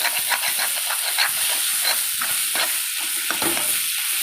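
Chili powder sautéing in a hot pan for a colocasia (taro root) fry, a steady close sizzle and hiss with soft scraping stir strokes throughout, no talking.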